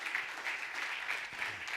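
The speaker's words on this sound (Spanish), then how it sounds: "Le das aplauso" A church congregation claps together during a Spanish-language service, giving a soft, steady patter of applause that carries on evenly for the whole short stretch without a pause.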